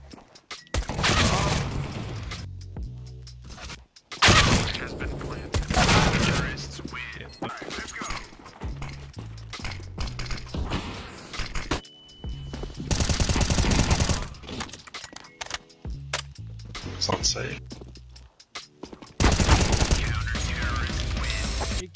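AK rifle fire in Counter-Strike: Global Offensive, loud rapid bursts of shots separated by short pauses and clicking weapon handling, with some voices in between.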